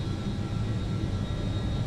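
Engines of an L-1011 TriStar airliner spool down after landing, a steady deep rumbling roar with a thin tonal whine on top, heard continuously and fairly close with no voices.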